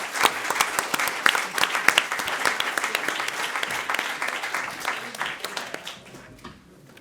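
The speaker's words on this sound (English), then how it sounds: "please give a big round of applause to our speakers" Loud audience applause for conference speakers, dense clapping from a close crowd that holds steady for several seconds and then tapers off toward the end.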